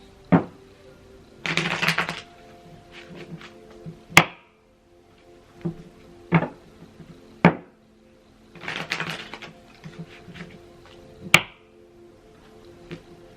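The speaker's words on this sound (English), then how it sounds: "3 more shuffles." A tarot deck is handled and shuffled in two papery riffle bursts, separated by several sharp taps and knocks of the cards against a table.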